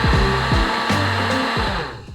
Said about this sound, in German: Anschließend mahle und mische ich beides noch feiner im Blitzhacker.